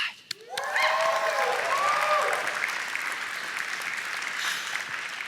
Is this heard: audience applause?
yes